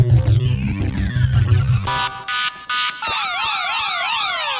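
Loud electronic tones from a Native Instruments Pro-53 synthesizer sweep up and down like a wailing siren, shifting from a low buzzy pattern to bright, overlapping warbling glides.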